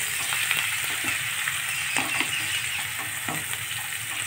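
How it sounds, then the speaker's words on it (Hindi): Two chopped onions fry in a pan for a soya chunks dish, producing a dense, even sizzle up close with faint stirring knocks scattered through and nobody talking. "अब हम डालेंगे 2 कटी हुई काली प्याज, इनको अच्छे से भून लेंगे।"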